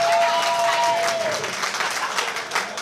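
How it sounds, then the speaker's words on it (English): Chamber of Commerce luncheon audience applauding, a dense wash of clapping from a room full of people, with a faint voice briefly over it early on. "I'm sure that's applause that they don't have to listen to me anymore"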